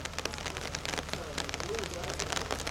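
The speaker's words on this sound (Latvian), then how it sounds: "no lietus nav jābaidās" Steady rain patters on surfaces at an open-air lakeside folk ensemble concert in an outdoor museum, a continuous broadband hiss with scattered sharper drops, moderately loud, with faint crowd voices underneath.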